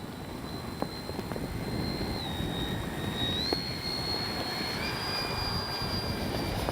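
An FMS 70mm A-10 Thunderbolt II radio-controlled jet flies overhead, a continuous high-pitched turbine whine that shifts in pitch as it passes over a broad rushing roar, fairly loud and steady.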